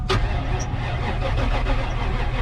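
A Pontiac WS6 Ram Air F-body with an LT1 V8 cranks over, starting with a sharp burst and then a steady, loud, low mechanical churn for a couple of seconds.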